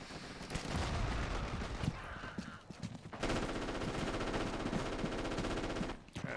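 Machine gun fire in the Forgotten Hope 2 multiplayer battle, heard as dense, sustained automatic bursts that run almost continuously, with a brief break and a short pause near the end, fairly loud and with no talking.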